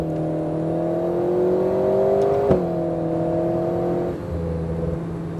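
An Alpine A110S pulls hard at full throttle on a racing circuit, its engine note a steady rising drone that climbs, dips at a gear change, then drops lower near the end, heard from inside the car with no talk.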